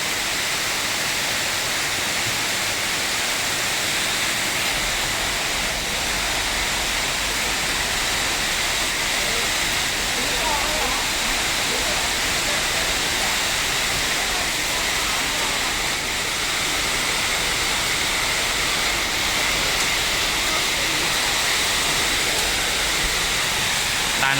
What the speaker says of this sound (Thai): รียกว่าเจอฝนถล่มทลายเลยพี่